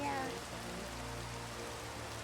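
Steady rain falls in Minecraft, a soft even hiss of drops on surfaces with a low background hum, continuous and moderately quiet throughout.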